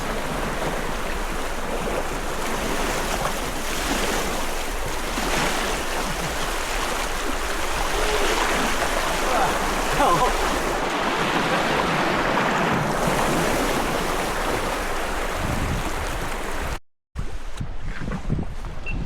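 Talahib Falls and the river rapids at Pagsanjan, Laguna pour out a dense, continuous rushing roar of water, loud and close, with some wind buffeting the microphone and a brief dropout near the end.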